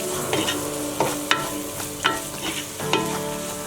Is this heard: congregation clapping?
no